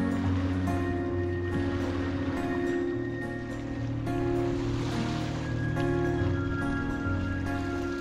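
Gentle wake waves from a sailboat on a calm, glassy sea near Greenland wash and lap continuously beneath a steady droning hum.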